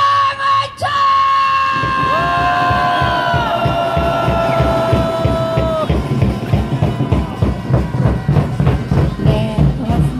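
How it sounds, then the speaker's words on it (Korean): A flag-waving crowd at a Korean patriotic rally roars in loud, sustained shouting and cheering, settling into rhythmic clapping and chant-like bursts that pulse steadily to the end. "함성하자!"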